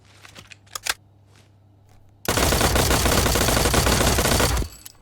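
A long sustained burst of rapid automatic fire in a tactical first-person shooter game, loud and close, preceded by a few quiet clicks and taps before the trigger is held for over two seconds.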